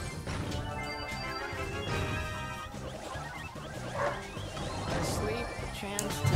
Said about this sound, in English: sorry about my dogs. They were barking so loud.